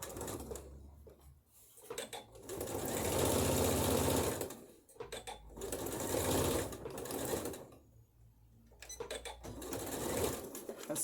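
A sewing machine stitches a bodice seam in several close, whirring bursts of rapid needle clatter, separated by short pauses.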